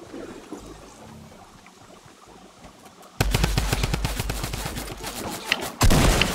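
Loud, fast bursts of gunfire erupt abruptly after a quieter outdoor stretch, sounding as rapid repeated shots close by, with a second louder burst near the end.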